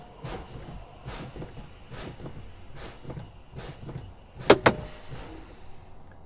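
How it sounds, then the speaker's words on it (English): A truck's air brake pedal is pumped repeatedly during a daily trip inspection until the yellow and red brake valves pop out. It makes a run of regular, evenly spaced air pulses, then two sharp, loud hissing pops close together near the end. "I'm going to continue to pump my brake until both my yellow and my red valve pop out."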